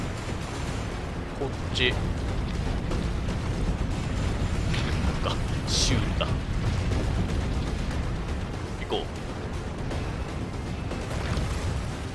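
Explosions and mechanical rumbling in the Resident Evil 3 remake video game during a rooftop fight and downtown escape, a dense loud roar with brief bursts, under a man's occasional speech.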